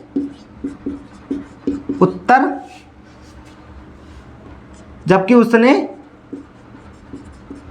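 Chalk scratches and taps on a classroom board in quick strokes and short scribbling bursts as a teacher writes out an answer during a Class 12 probability lesson, heard close, with a voice talking throughout.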